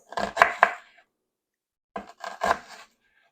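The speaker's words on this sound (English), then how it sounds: "we're going to take each half and we're going to just slice it as thin as we can get it" A knife slices cabbage halves thin on a board with quick crisp crunching cuts in two short bursts, a pause of silence between them, heard close and alone.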